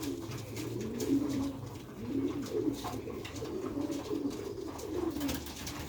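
Old Sialkoti pigeons cooing in low, rolling, repeated phrases, close and steady against a faint hiss of background noise, no talk.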